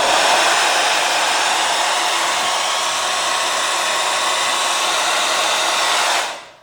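A JMW Air Collection hair dryer with high airflow and turbo power blows a loud, steady rushing whoosh for about six seconds, then cuts off abruptly.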